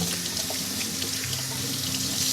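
Tap water runs steadily into a kitchen sink while a whole chicken is rinsed and cleaned, a continuous close splashing hiss with no talking.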